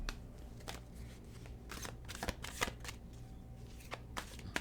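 A deck of tarot cards being shuffled by hand, giving repeated crisp riffling flicks and soft slides at close range in a quiet room.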